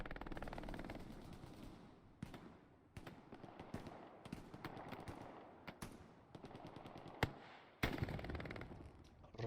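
Machine gun fire in the video game Hell Let Loose, a steady rattle of rapid bursts with sharp loud shots cutting through, continuous over the whole stretch with no talk.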